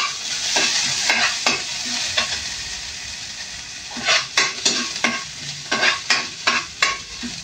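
Ginger, garlic and onion sautéing in a hot pan, a steady sizzle with repeated sharp scrapes and clinks of a utensil stirring against the metal, growing busier toward the end, with no talking.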